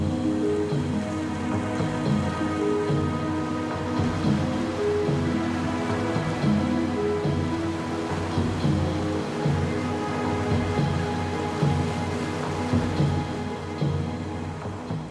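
Churim Waterfall pours with a continuous, dense rushing roar, steady and full throughout without speech.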